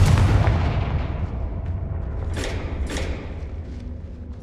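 Fire-blast spell detonating in Hogwarts Legacy, a heavy booming blast at the start that decays into a rumbling tail, followed by two softer whooshing bursts.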